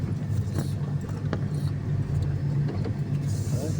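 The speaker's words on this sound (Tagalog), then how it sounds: "Nakakapasok na mga kotse, mga sasakyan dito." Cars driving along Sunken Drive, a steady low traffic rumble close by with engine drone and passing vehicles, no voices.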